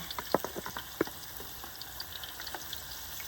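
Fish frying in hot oil in a fryer at medium heat gives a steady crackling sizzle, with sharp pops and spits near the start that settle into a denser, softer bubbling hiss.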